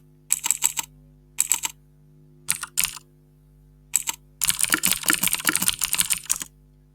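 Bursts of fast typing on a computer keyboard, clicking in short clusters separated by pauses, then a longer steady run of keystrokes near the end, close and clear over a faint electrical hum.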